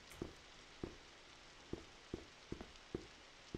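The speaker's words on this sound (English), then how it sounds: "Window open, listening to the rain." Rain falls outside an open window of a room at the Holbrook Hotel, a soft, steady hiss with faint drips, broken every half second or so by sharp, close taps.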